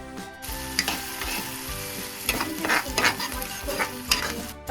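Onions, green chillies and curry leaves fry in oil in a pan for an egg poriyal, a loud, close sizzle with repeated scraping stirs of a spatula and a steady hum underneath, no talking.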